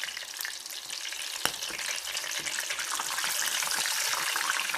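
Shrimp deep-fry in hot oil with a dense, steady crackling sizzle throughout, close and loud, with one sharp tap near the start.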